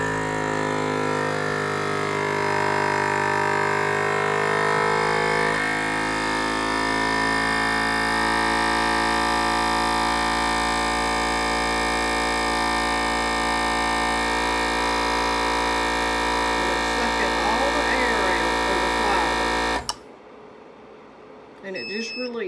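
A vacuum sealer pump drawing air from a mason jar of flour hums in a steady drone for about twenty seconds, then cuts off abruptly, leaving near silence.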